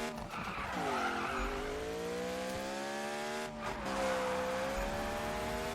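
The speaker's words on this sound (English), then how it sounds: "There's a little drift." Tires skid and squeal continuously as a car drifts in the Need For Speed racing game, a loud sustained screech with a shifting pitch over engine drone, holding steady for several seconds without talk.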